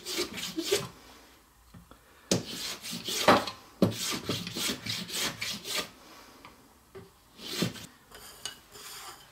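A rasp files down wood to shape chopsticks, producing close, irregular scraping strokes in bursts separated by short pauses, with no voices.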